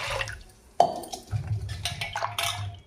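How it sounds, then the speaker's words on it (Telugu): Water is poured into a cooking pot for tomato dal in a home kitchen, a short splash followed by faint dripping and light clinks of metal utensils, with no voices. "1 చెంచా వాటర్ పోసుకుందాం"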